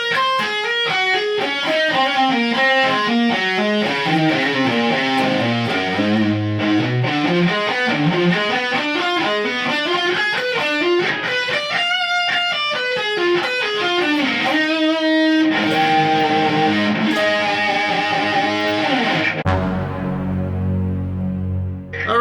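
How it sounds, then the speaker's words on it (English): Distorted electric guitar plays a three-part shred lick at slow speed, steady picked note runs climbing and falling in sequence, loud and alone with no talking. "that entire lick all together, played slowly, should look and sound kind of like this"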